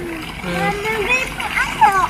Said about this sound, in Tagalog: Tubig nagagas-agas.